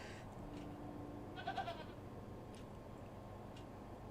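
A goat bleats once, faint and brief, partway through a low, steady outdoor background hum.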